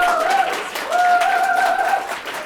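An audience applauds at the end of a talk about making things. The clapping is moderate and steady, with tonal sounds like voices or whistles rising over it.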